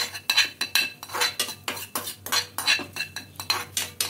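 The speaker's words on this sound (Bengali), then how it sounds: "এবার একটু হালকা নাড়াচাড়া করে ভেজে নেব কালো জিরা আর হিংটাকে" A metal spatula scrapes and taps rhythmically against a pan while black cumin and asafoetida fry gently in it, repeated clanking strokes roughly every quarter second, close up with only a faint sizzle beneath and no voices.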